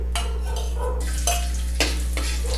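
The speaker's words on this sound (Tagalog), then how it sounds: "Ilalagay ko muna yung bawang." Garlic sautés in hot oil in a pan with a continuous loud sizzle, broken by several clattering scrapes of a utensil stirring against the pan. A low steady hum sits underneath.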